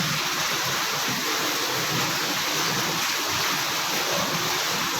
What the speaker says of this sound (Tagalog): So gumagana pa rin po yung ating influent pump 2.